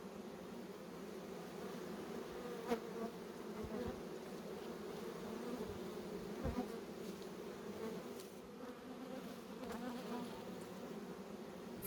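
Honey bees from an opened nucleus hive in Cuba, with the roof turned over, hum in a dense, steady swarm drone that continues throughout, with occasional louder passes of individual bees close by.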